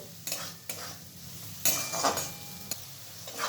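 Vegetables and spices fry lightly on medium heat for cheese Maggi masala, a soft sizzle broken by a few sharp scrapes and clinks of a utensil against the pan.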